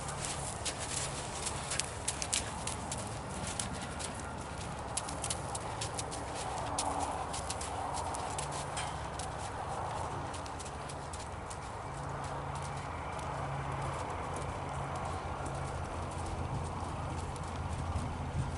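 Steady hoofbeats clop along at a relaxed walking pace, fairly faint, with soft outdoor ambience and occasional bird calls in the background.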